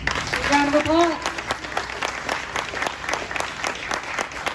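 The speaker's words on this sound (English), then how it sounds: "Round of applause." Audience applause right after a hackathon team's presentation, a dense burst of clapping that carries steadily to the end, with a voice briefly audible at the start.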